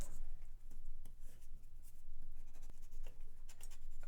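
A Lamé Safari fountain pen scratches across paper in short, irregular strokes, close and fairly quiet, with faint background hiss between the marks.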